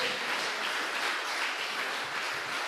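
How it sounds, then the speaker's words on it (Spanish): A church congregation applauding, a steady sustained roar of many hands clapping at once, loud and continuous throughout. "Dele un fuerte aplauso al Señor."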